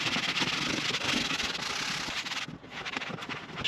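Truck seats in a Silverado get scrubbed down before conditioning, a close, steady brushing and rubbing sound with rhythmic strokes that eases off briefly toward the end.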